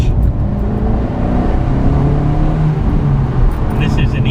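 A car engine in eco mode hums loudly and climbs steadily in pitch as it accelerates, heard from inside the vehicle.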